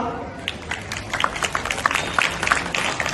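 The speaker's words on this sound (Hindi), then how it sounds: "जोरदार तालियां" Audience applause at a Ramleela stage performance, scattered hand claps rising in bursts over a steady crowd murmur, moderately loud throughout.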